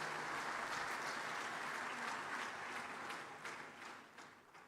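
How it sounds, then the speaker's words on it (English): Large conference-hall audience at a bank's annual meetings applauding steadily, a dense, even wash of clapping that gradually thins and tapers off toward the end. "That's your first round of applause for the day."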